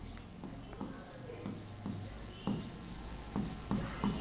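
Marker or chalk writing on a board during a class 12 partnership accounts lesson, a run of close, quick scratchy strokes with short taps between words, no talking over it.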